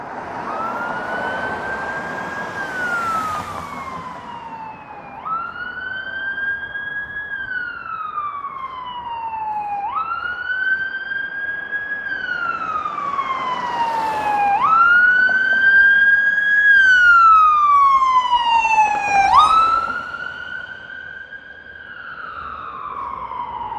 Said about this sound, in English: It's not a walk in the city without some emergency vehicle sirens going by.